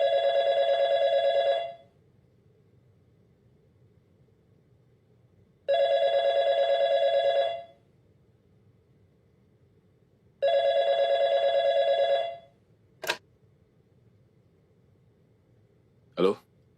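A telephone rings in three long electronic bursts spaced a few seconds apart, each about two seconds, against a quiet room, followed by a couple of brief sharp clicks.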